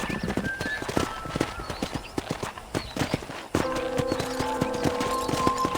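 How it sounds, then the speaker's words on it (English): Rapid clip-clop of horse hooves in a steady galloping rhythm in Red Dead Redemption, close and clear, with a brief neigh and game music joining partway through. "let's see if you can still ride a horse"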